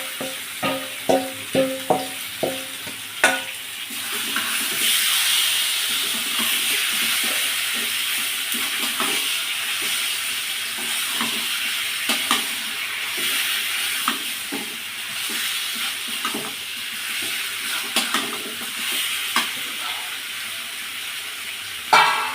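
Marinated desi chicken lands in a pan of browned fried onions, kicking up a loud, steady sizzle after a few sharp clatters. Close, continuous frying hiss with scattered crackles and pops continues throughout.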